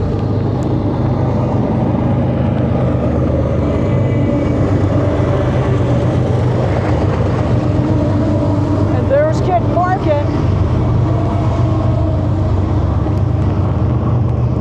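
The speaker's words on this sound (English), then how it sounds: "Here comes the train." A train rumbles past nearby along Route 66, a loud, continuous low roar mixed with steady pouring rain and traffic noise, with a brief higher squeal partway through.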